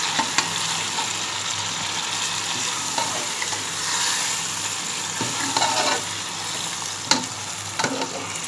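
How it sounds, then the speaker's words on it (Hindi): Marinated chicken for korma sizzles and fries in a pan while a spoon stirs it, a constant crackling hiss broken by occasional scraping knocks against the pan. "हम इसको अच्छी तरह मिक्स करेंगे।"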